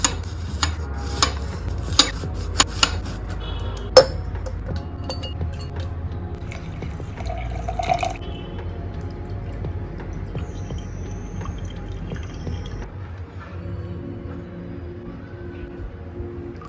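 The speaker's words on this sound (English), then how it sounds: "Pour in some warm water." Warm water is poured into a glass holding a whole sliced lemon, with a few sharp glassy clinks early on and a soft, steady trickle that runs on quietly nearby.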